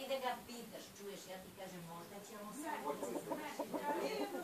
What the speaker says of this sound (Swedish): Här ser vi den ståtliga tuppen